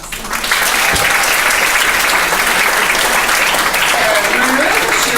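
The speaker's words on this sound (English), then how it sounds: "I think that deserves an extra round of applause" Sustained, loud applause from a large audience at a 2016 class graduation ceremony, rising quickly at the start and holding steady throughout, with a few faint voices mixed in.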